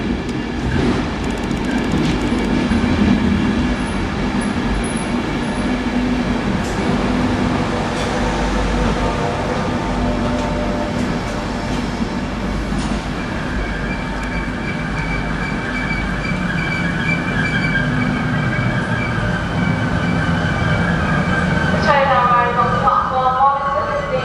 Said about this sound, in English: I'm going on to Peterborough on the Flying Scotsman by the looks of it